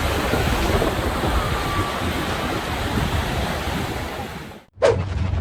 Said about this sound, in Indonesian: Angin kencang di Thailand.